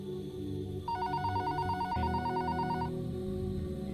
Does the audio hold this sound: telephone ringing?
yes